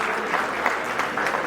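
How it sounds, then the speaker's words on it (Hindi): Audience at a school annual function breaking into brief, steady clapping, a short dense burst of hands filling the hall. "एक दफ़ा डॉक्टर साहब के लिए भी तालियां होनी चाहिए"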